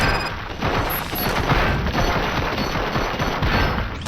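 Rapid, continuous gunfire from the video game RoboCop: Rogue City rattles in a dense, loud burst with no pauses.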